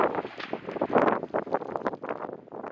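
Strong mountain wind buffets the microphone on an open slope during a chamois hunt, roaring in uneven gusts and rustling bursts that rise and fall throughout, close and fairly loud with no voices.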